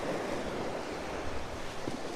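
Wind gusts across the seaside, a steady broadband rush mixed with the wash of surf, moderately loud with no voices present.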